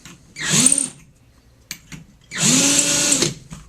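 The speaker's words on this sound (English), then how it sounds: "the deburr and chamfering tool. Keep the piece of brass on there. Just run it through a little bit." Brass rifle case deburred and chamfered with a hand case-prep tool, two separate bursts of grinding, whirring metal scraping about a second each, close and fairly loud with quiet between.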